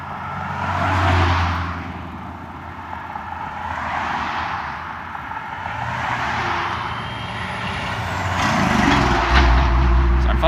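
Steady road traffic with trucks in Durango, Colorado, a continuous loud rumble with vehicles swelling past one after another and a deep engine drone rising near the end.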